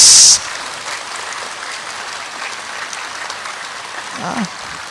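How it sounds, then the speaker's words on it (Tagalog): A church congregation breaks into loud, sustained applause during a Filipino Catholic Mass, a dense wash of many hands clapping steadily from start to finish with a brief louder burst at the very beginning. "pumalakpak ng pinakamalakas"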